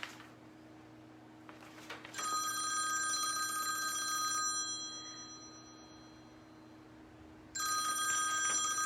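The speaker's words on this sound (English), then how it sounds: "Phone ringing." An old-style telephone bell rings in two long bursts separated by a pause, fairly faint against a quiet background hum, with no talking.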